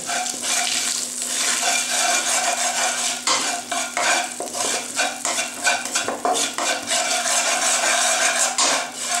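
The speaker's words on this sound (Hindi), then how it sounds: "डालते साथ ही इसमें आपने चमचा चलाना शुरू कर देना है ताकि सालब मिस्री नीचे से लगे नहीं।" A spoon stirring and scraping salab misri as it roasts in a pan, continuous busy metallic scraping with a faint sizzle, close and steady throughout.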